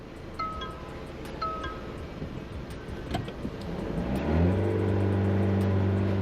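A Mahindra XUV700's 2.2-litre mHawk diesel engine revs with the windows down, a steady drone under wind rush that swells into a louder, rising engine note near the end.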